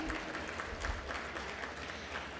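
An audience claps steadily at a felicitation ceremony honouring senior advocates, a dense, even patter of many hands that continues throughout at moderate distance.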